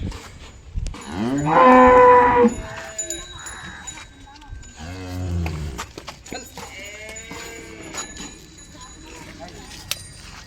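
Cattle low loudly at a cow market in Chalisgaon, with one long close moo followed by further deep calls from other cows amid market bustle and occasional hoof clatter.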